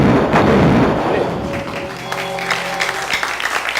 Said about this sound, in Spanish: Una merecida ovación para el doctor Héctor Vargas Aya.